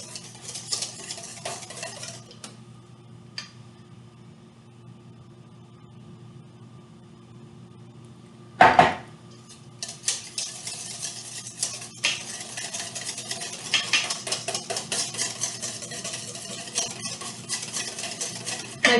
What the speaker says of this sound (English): One person can pour the egg, and the butter, and one person can stir